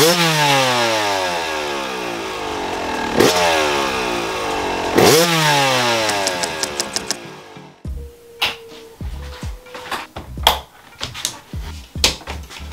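A Yamaha YZ 300 two-stroke dirt bike fitted with an Athena kit kicks over and fires, engine revving in rising and falling bursts, then cutting to rough sputtering pops and irregular blips, loud and close.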